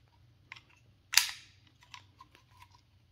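Metal parts of a US Army pistol being disassembled by hand: a few faint, sharp clicks and one louder snap of a slide or part, with soft handling noise between, close up and no talk.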